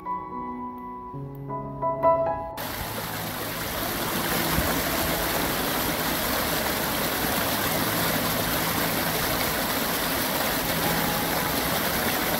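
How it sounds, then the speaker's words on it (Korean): A stream flows steadily and continuously, its broad rushing wash filling the whole clip after a few brief tones at the start. "물소리에 취해 걸음을 뗄 수가 없다."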